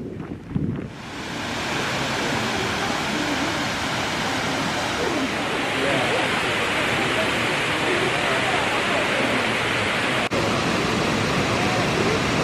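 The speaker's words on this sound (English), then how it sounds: "I'm walking the Torque Waterfall right now. It's quite a spectacular waterfall" Torc Waterfall in Kerry, Ireland roars with a dense, steady rush of falling water that stays loud and unbroken throughout, mixed with some wind buffeting on the microphone.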